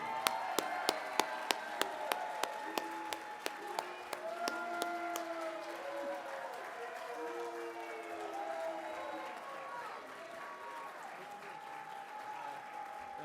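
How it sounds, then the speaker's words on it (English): At a state of the city address, an audience applauds a key-to-the-city presentation. Sharp individual claps at first, then a steady sustained patter beneath tonal sweeping sounds and crowd noise that continue to the end. "So please join me in giving a round of applause to present the key to the city to Tyler Snoop Huntley."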